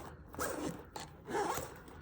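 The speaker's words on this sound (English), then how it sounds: "Once that's through, you can zip it up." A zipper is pulled closed on a feeding pump bag in two quick, close strokes, a soft rasping zip each time with a brief pause between.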